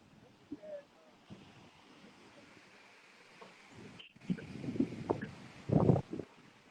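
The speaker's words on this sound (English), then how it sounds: "we're now at the beach" Waves wash onto a beach with blue water, heard as soft broadband surges building louder toward the end amid gusty wind buffeting the microphone.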